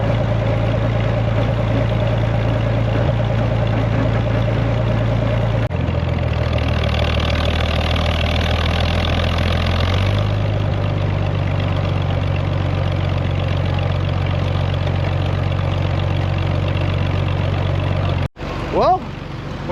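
Old farm tractors idling together, among them a Farmall H, with a steady low engine drone throughout, a shift in pitch around the middle, and voices faintly present under the running engines.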